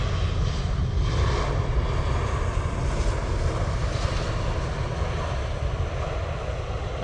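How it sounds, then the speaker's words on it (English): A Finnair airliner arriving from Helsinki at Manchester Airport gives a steady, loud engine roar with a broad rumble, continuous throughout with wind noise and no talking. "Finnair coming in from Helsinki then."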